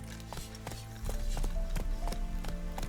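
Horse hooves clip-clop at a steady trotting rhythm in The Witcher 3, close and clear over a low rumbling game soundscape, the pace holding evenly through the short stretch.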